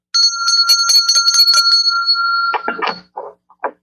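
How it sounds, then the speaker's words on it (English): A bright metallic bell rings rapidly several times with a lingering tone, followed by a few short clattering knocks. "let me ring a bell for a smile"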